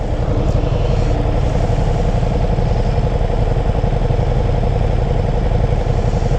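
A Ducati Diavel V4 motorcycle engine runs loud and close for the whole stretch, a steady dense mechanical roar with no pause and no talk over it.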